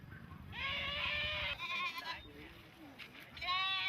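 Goats bleat at a Vietnamese market, a few loud, quavering cries close by, with a voice talking faintly beneath them.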